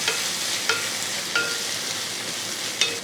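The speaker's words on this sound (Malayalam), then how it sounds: "തക്കാളി ഒന്ന് ഇളക്കി കൊടുക്കാം." Chopped tomato fries in a pan for chicken salna, giving a soft, steady sizzle. A few light stirring clicks and scrapes come at intervals, close but fairly quiet, with no talk.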